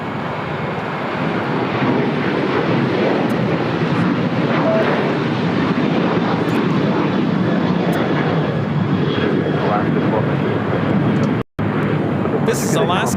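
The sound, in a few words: Alaska Airlines Boeing 737-900ER taking off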